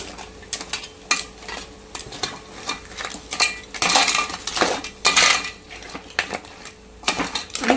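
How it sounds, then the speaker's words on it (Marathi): Cleaned crabs and their claws stirred in a pan for a Malvani-style crab curry, with near, intermittent clinks and scrapes of a utensil against metal over a faint sizzle. "हे चांगलं आता परतून घेऊया"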